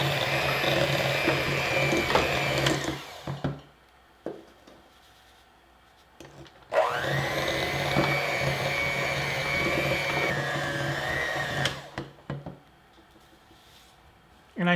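A stand mixer fitted with a paddle attachment churns Oreo cookie crumbs in two long whirring runs separated by brief pauses, loud and close, with a voice speaking at the start.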